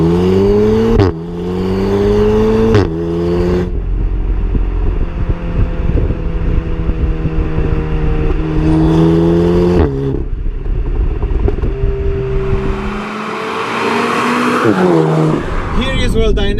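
A 2015 Audi TTS accelerating hard on country roads, engine revs climbing through several gears with sharp pitch drops at each shift, loud and close, ending in a tapering rev.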